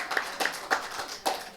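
A few scattered claps, each a short sharp burst, spaced unevenly and fairly quiet, more like a handful of people than a full crowd.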